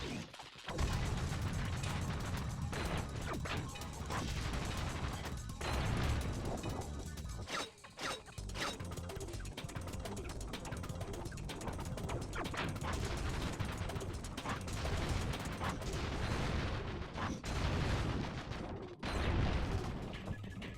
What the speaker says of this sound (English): it's quite a satisfying noise, destroying those ships and anchors